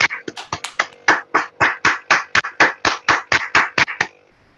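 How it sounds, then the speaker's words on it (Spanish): Clapping for Roberto after a mathematics colloquium talk, sounding like a single person clapping close to the microphone, about twenty sharp claps in a steady rhythm before stopping. "Deberíamos brindarle un aplauso a Roberto."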